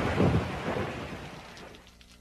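Heavy rain pours steadily with a deep rolling rumble of thunder that peaks early and slowly fades, loud and close, with no talking.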